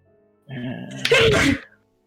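A single sharp sneeze, a short breathy intake followed by an explosive burst, close and loud, then quiet.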